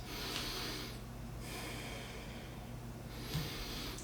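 Slow breaths in a yoga forward fold, two long airy exhales with a short gap between them, close and soft over a faint low hum.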